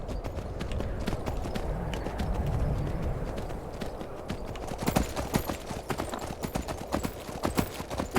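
Horse hooves gallop in Skyrim, a steady fast clip-clop of repeated thuds that grows louder and sharper partway through, alone without talk over a dense outdoor background.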